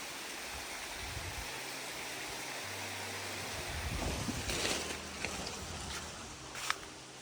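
A waterfall on the Appalachian Trail between Newfound Gap and Hot Springs, heard as a steady broad rushing of water from a distance, with light wind and a few faint knocks, no talk.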